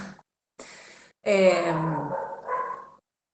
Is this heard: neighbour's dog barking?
yes